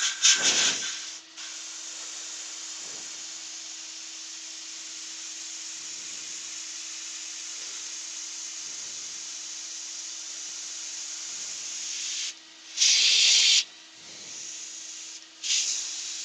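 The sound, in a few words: dust extraction running, wood slowly rotating on lathe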